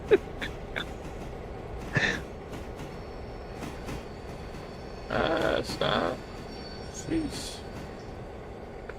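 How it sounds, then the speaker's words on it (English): Railroader game train running ahead on the line, a low steady rail rumble with a few brief metallic squeals and clanks, heard under occasional short spoken exclamations. "That's the train that's up ahead."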